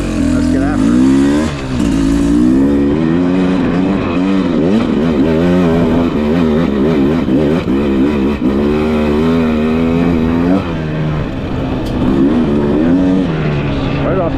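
A 2025 Beta 300RR Race two-stroke dirt bike on a first ride, its engine loud and close throughout, revving and bogging in constant rising and falling sweeps as the rider works the throttle, with spoken commentary running over it.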